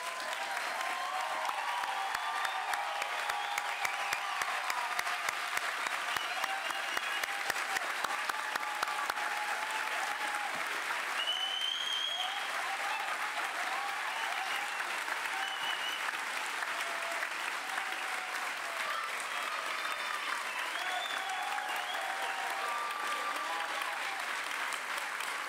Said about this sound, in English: I'd like to have one last applause for our graduates.